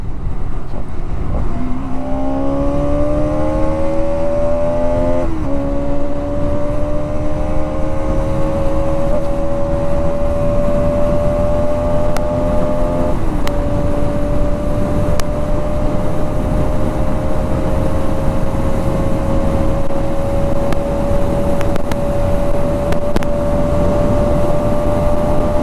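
A Bajaj Pulsar NS200 motorcycle engine drones loudly and continuously while riding downhill, its pitch climbing gradually as it speeds up, with steady wind and road noise throughout.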